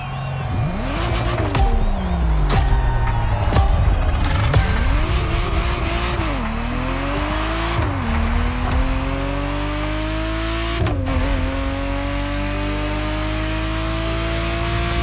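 Ferrari Testarossa in the video game The Crew Motorfest, a loud engine revving hard through rising gear changes with pitch dips between shifts and bursts of tire squeal, no speech.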